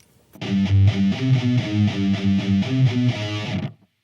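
Distorted electric guitar playing a fast, evenly picked metal riff, with a rapid repeating rhythm of chugging notes, loud and close, which stops abruptly after a few seconds with no talk over it.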